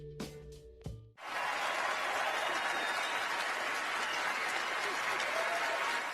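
Someone applauding at the 2017 Oscars, heard as a few brief sounds followed by a sustained wash of crowd applause that carries on steadily to the end.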